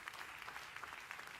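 A church congregation claps at a sermon, a quick continuous rattle of many hands heard at a modest distance and fairly quiet.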